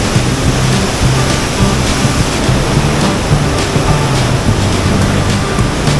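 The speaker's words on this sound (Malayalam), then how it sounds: "പാലത്തിനടിയിലൂടെ കാതടപ്പിക്കുന്ന ശബ്ദത്തിലും ശക്തിയിലും അലറിയടിക്കുന്ന വെള്ളച്ചാട്ടം" A roaring waterfall pours over a check dam beneath a bridge, a loud, dense and continuous rush of water with no pauses or voices.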